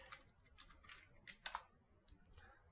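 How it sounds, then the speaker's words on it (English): Soft, uneven bursts of keystrokes on a computer keyboard, clustered clicks with brief pauses, close and fairly quiet with no talking. "So I'll just go ahead and type"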